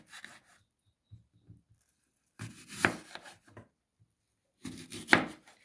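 A knife cuts white filling apples into cubes, giving bursts of crisp slicing and scraping, soft taps of the blade on the board in between, and quiet pauses; no voices.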